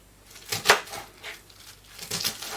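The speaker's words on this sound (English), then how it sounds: "just chopping it with the knife." A knife chopping cabbage for coleslaw on a cutting board, with a few irregular crunchy cuts and knocks, one sharper hit standing out, close and moderately loud.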